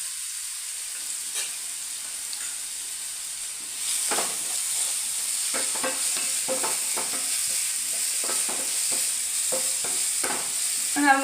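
Finely sliced onions frying in a pan with a pinch of salt, a steady sizzle broken by repeated scraping stirs that grow busier after the first few seconds.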